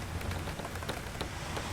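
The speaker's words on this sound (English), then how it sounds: "it started to rain" Steady rain patters on a surface in a short, soft continuous wash, used as a sound effect in a children's audiobook.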